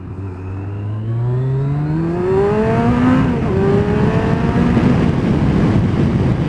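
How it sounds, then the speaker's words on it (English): A car overtaking on the M6 motorway, its engine note climbing steadily as it accelerates hard, loud and close, over constant road and wind noise, with no talking. "I can feel an acceleration overtake coming on."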